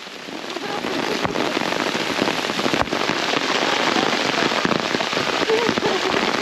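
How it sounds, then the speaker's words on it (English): Heavy rain pours down steadily outdoors near Cheaha, a dense continuous hiss of drops with a few sharper pops and thumps, close and fairly loud throughout, and a voice briefly heard beneath it. "This is the kind of rain that might require a rain jacket."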